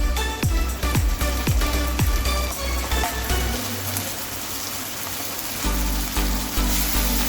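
Ginger, garlic and green chilli paste frying with lightly browned onions for chole, giving a steady hiss with sharp crackles and spoon scrapes near the start, then a softer continuous sizzle.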